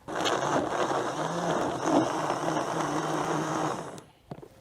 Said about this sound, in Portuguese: E bate no liquidificador com 1 litro de álcool